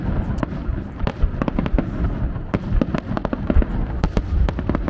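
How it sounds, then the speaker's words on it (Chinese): Rapid volleys of sharp bangs and crackles at the Nagano Ebisu-ko autumn fireworks festival in Japan, dense explosive bursts overlapping at close-to-mid distance with crowd murmur beneath. "这个长野惠比寿烟花大会是日本秋季少有的，也是这个季节最盛大的"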